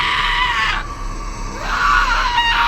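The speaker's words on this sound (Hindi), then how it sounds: "एक दिल को चीरती हुई चीख हवा में गूंजी।" A heart-piercing scream rings out and echoes through the air in a haunted banana orchard, a sustained shrill cry with no talking.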